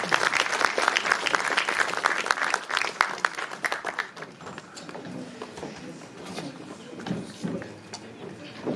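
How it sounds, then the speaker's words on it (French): Audience at a Congolese diaspora women's honouring event in Belgium gives sustained applause, dense and loud at first, then thinning to scattered claps while faint voices murmur underneath. "Un tonnerre d'applaudissements,"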